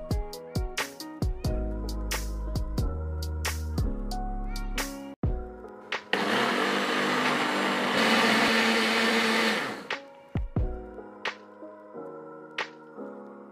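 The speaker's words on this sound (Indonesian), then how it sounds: "Kemudian blender dengan menggunakan air putih. Blender sampai dia halus." Kitchen blender grinding chopped pandan leaves with water, a loud sustained whirring roar that runs for a few seconds between scattered short clicks and knocks of handling, with no talk.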